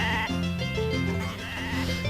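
Sheep in the farming video game Harvest Moon: A Wonderful Life bleat loudly and continuously, a wavering, nasal bleat held for about two seconds.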